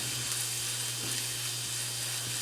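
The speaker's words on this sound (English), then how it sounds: "We're just going to quickly saute that" Minced garlic, ginger and chili flakes saute in a pan with a soft, steady hiss, faint and continuous beneath a low electrical hum.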